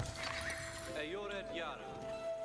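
A horse neighs and whinnies loudly in the Age of Empires 4 strategy game on Xbox, with faint hoof clip-clop and game ambience underneath, while a voice talks throughout.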